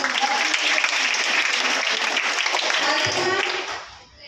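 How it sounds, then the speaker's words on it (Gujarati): Schoolchildren at a class 6 to 8 quiz competition clap together in a burst of applause, dense and fairly close, fading out near the end. "સરસ, તાળી પાડો ભાઈ"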